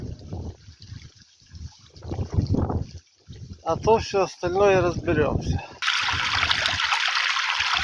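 Someone talks nearby, then a steady hissing trickle of water takes over, pouring continuously as if being pumped out.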